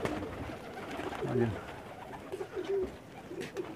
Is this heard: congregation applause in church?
no